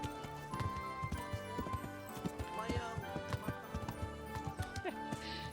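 Rapid clip-clop of horse hooves trots steadily over a loud layer of music and sound effects, with a whinny partway through, in the video game Kingdom Come: Deliverance.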